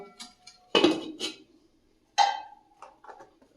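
A metal lid clatters onto a cooking pot with two sharp clanks, one ringing briefly, plus a few lighter clinks of kitchenware, close and quiet, with no talking.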